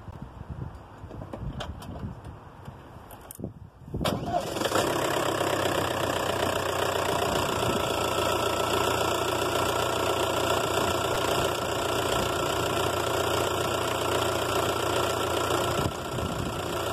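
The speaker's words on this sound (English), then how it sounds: "I'm just letting it idle for a minute here at the moment." A car engine idles during a head gasket check, starting up after a few seconds of quieter rattling and then running steadily with a close, even, slightly knocking rumble throughout.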